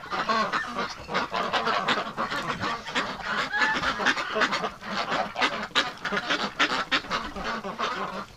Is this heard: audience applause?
no